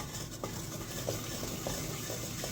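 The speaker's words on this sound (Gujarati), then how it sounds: "તેલ થોડું થઈ જાય એટલે 1 અને 2 સ્પૂન બેસન, જેનાથી રસો ઘાટો થાય." Besan (gram flour) sizzles and fries in oil in a pressure cooker while a spoon stirs it, giving a steady, close hiss with faint scraping touches.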